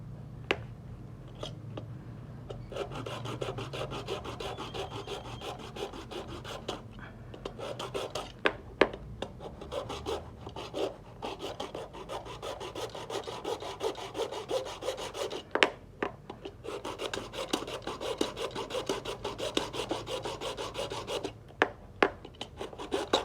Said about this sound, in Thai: เดี๋ยวอาจจะต้องเลื่อยเพิ่มนิดนึงนะครับ